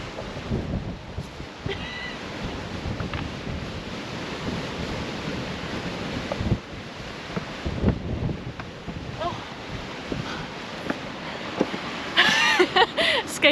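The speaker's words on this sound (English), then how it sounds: "Escape from the wind over here." Strong wind buffets the microphone on a stormy Shetland beach, a loud continuous roar with gusting surges throughout, surf noise mixed in, and a few faint voices under the blustering air.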